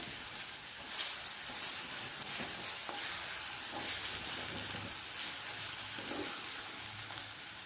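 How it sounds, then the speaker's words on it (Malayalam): Onions fried with ground chilli paste for a raw prawn and green mango curry, stirred in a pan: a steady hiss of frying under scattered scraping strokes of the spoon, alone and at close range. "നമുക്ക് നല്ലതുപോലെ ഇതെല്ലാം കൂടി ഒന്ന് മിക്സ് ചെയ്തെടുക്കാം."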